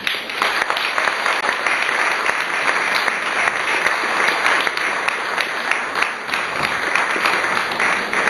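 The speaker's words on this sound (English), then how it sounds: "I think the claps have said it all" Sustained applause from a lecture audience fills the room, a dense steady patter of many hands clapping at even loudness with no voices over it.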